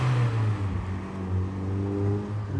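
A Mazda Miata driving past fast, its engine note holding a steady low hum with harmonic bands that sweep slightly as it goes by, loud and close throughout.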